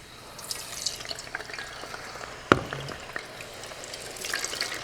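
Batches of burger fixings go into hot oil held near 300 degrees, giving a quiet bubbling sizzle with scattered crackles and one sharp splash as pieces drop in, close and without talk.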